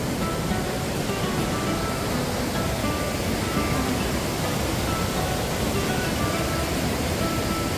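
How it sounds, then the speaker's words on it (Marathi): A waterfall near the Dhutpapeshwar temple in Rajapur roars as a steady, dense rush of water, loud and unbroken throughout, with no voices. "पाहत्या समोर खूप सुंदर असा धबधबा आहे"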